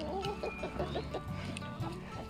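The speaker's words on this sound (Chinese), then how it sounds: "还有二十五只可以下蛋的鸡。" Free-range Luhua hens cluck and murmur close by in a navel orange orchard, giving repeated short calls over a steady outdoor background.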